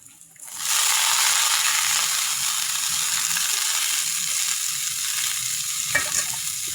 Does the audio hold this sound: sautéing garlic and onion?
yes